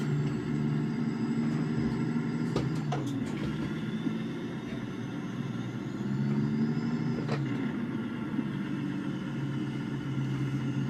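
A truck drives with its engine droning steadily and loud throughout, a few sharp clunks from gear changes as the driver floats gears without the clutch, and no talking.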